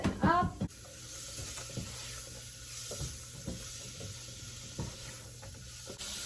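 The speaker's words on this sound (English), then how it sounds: "I'm gonna let these onions and garlic cook down just a little bit and develop that flavor and soften up" Onions and garlic cooking down in a pan make a soft, steady sizzle with faint stirring clicks, quiet and close, after a brief voice at the start.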